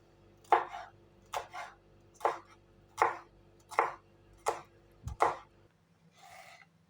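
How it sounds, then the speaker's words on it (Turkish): A knife chops peppers on a cutting board in seven sharp, evenly spaced strokes, close and clear, then stops with a faint rustle. "Onları da böyle minik minik doğrayacağım."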